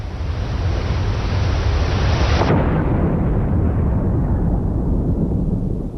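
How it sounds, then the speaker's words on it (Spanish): A deep, sustained rumbling blast of broadband noise that cuts off its high hiss partway through, leaving a long fading low roar, from an explosion beneath the ship Britannic. "una violenta explosión resonó bajo el Britannic."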